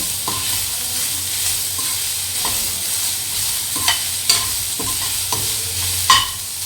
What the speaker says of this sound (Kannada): ಸೊ ಇಷ್ಟೊಂದು ತರಕಾರಿಯನ್ನು ತೆಗೆದುಕೊಂಡಿದ್ದೆ ಸ್ವಲ್ಪ ಫ್ರೈ ಮಾಡ್ಕೊಳ್ತೀನಿ